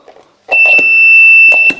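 A steady, piercing electronic beep from a mock-up mine holds for about a second after a few soft clicks and taps, with faint handling noises around it.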